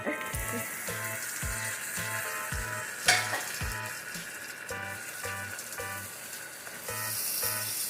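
Snapper fish for Guyanese stew sizzling steadily in a hot pot, joined by repeated near, rhythmic clinks and knocks of a utensil against the pot and one sharp clatter, with no talking.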